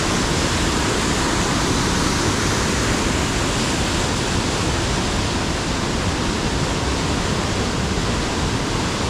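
Daves Falls on the Pike River in Amberg, Wisconsin, roars steadily as water rushes over the rocks, a loud, unbroken broadband wash heard close up with no voices.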